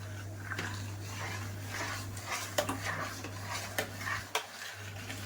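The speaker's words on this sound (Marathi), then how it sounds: "आणि लगेच कालवत राहायचं।" Sorghum ambil batter stirred in a pot on the stove, with a spoon scraping and clinking against the metal in a steady, close, busy rhythm over a low constant hum, no talking.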